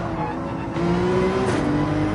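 A racing car in Gran Turismo 7 accelerates, its engine note droning loud and close, then rising steadily in pitch as it revs up, with no voices over it.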